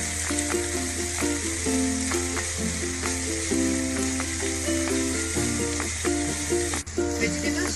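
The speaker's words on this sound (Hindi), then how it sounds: "ग्रीन चिली, कैप्सिकम, इसको भी हम 2 मिनट्स के लिए सौटे कर लेंगे" Green chili, capsicum and carrot sauté in a hot pan, giving a steady, close sizzle that runs throughout beneath prominent background music.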